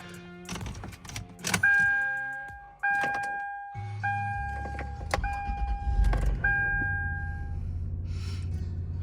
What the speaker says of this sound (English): start it up and we will listen to the engine